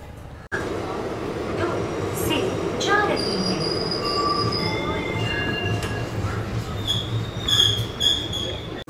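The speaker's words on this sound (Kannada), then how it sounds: "ನಮ್ಮ ಡೆಮೋ ಟ್ರೈನ್ ಸದ್ಯಕ್ಕೆ ರೀಚ್ ಆಗಿದೆ ಯಶವಂತಪುರ ರೈಲ್ವೆ ಸ್ಟೇಷನ್ಗೆ" A DEMU train arrives at Yesvantpur railway station, its wheels screeching and squealing on the rails with clattering car noise, loud and near for several seconds after an abrupt start.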